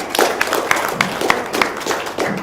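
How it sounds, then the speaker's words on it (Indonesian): A handful of loud, close claps in a slow irregular rhythm from a small group at an informal gathering, with no talking over them. "tepuk tangan dong"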